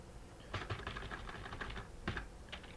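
Keys clatter on a computer keyboard in quick irregular bursts as someone types, soft and close with short pauses between runs of keystrokes.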